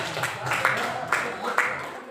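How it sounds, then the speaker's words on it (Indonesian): A short burst of clapping from school students at a junior high leadership camp in a resort hall, a few sharp claps over scattered applause, with voices mixed in. "Ayo kita kasih tepuk tangan buat Karen."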